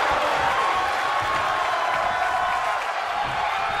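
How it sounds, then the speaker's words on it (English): A wrestling arena crowd in the WWE 2K20 video game cheers as a continuous, loud, broad roar that holds steady throughout. "And this crowd's starting to perk up"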